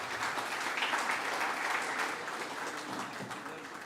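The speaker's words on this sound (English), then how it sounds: "Can we have a round of applause," Applause from an audience at a technical discussion event, a sustained, dense crowd clapping that fades slightly toward the end, with no talking over it.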